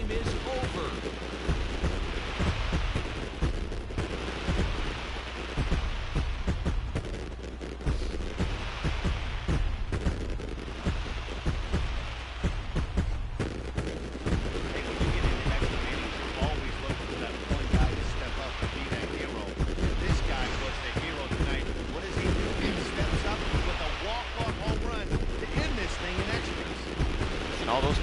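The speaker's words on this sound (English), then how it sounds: "A lot of fireworks in the nation's capital." Fireworks after a walk-off win at the Washington Nationals' ballpark in MLB The Show 20, a dense continuous barrage of popping bursts and booms under a crowd roar, with a commentator talking over it.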